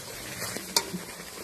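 Chicken being stirred and sautéed in a pan over a wood fire, a soft steady sizzle with a few scraping stirs and one sharp clink of utensil on pan, close and brief.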